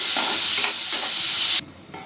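Onions frying in a pan for vegetable upma make a loud, dense sizzle with light stirring that drops away sharply near the end, leaving only a faint hiss.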